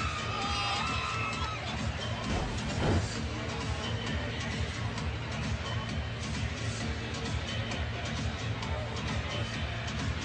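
A sellout crowd roars steadily throughout a basketball game in a packed arena, forming a dense, continuous wall of cheering and chatter with a brief swell near the third second.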